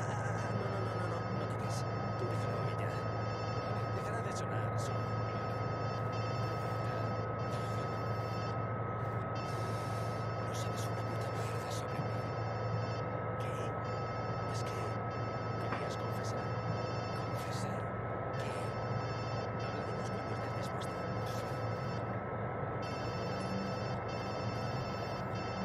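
In the video game Watch Dogs 2, a telephone rings in repeated bursts over a constant droning hum, the ringing steady and fairly prominent throughout while people talk beneath it.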